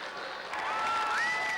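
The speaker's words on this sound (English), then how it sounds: "The loudest applause he heard was when Iowa students gave him a sweatshirt." Iowa students applaud at a presidential campaign event for Gore: a continuous crowd clapping wash that swells a little louder partway through, with a thin whistling tone drifting above it.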